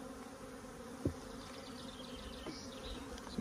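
Honey bees buzz steadily in an opened, queenright hive colony, a dense continuous drone with a few faint knocks, no speech.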